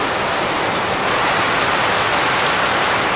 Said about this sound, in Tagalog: Panood lang natin at pakinggan yung ulan.